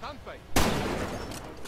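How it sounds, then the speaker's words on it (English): Machine gun fire in the video game Far Cry 2 bursts in after a brief voice, a sudden dense volley of shots that rattles on for over a second at moderate loudness. "Just take the machine gun."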